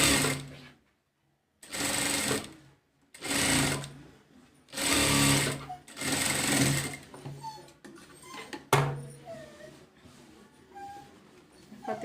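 A sewing machine stitches cowl sleeves for an umbrella frock, running in four close, steady bursts separated by short pauses, with softer handling noises at the end.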